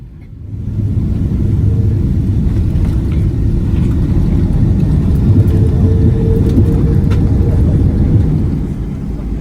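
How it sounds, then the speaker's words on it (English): An airliner on approach to runway 4 Right at JFK fills the cabin with a loud, steady low engine rumble that fades in at the start and holds throughout. "We started our approach into runway 4 right at JFK."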